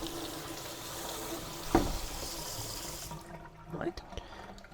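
Running water rinsing food scraps off a Bosch Series 6 dishwasher filter, a steady close splash with a couple of louder gushes before the flow fades.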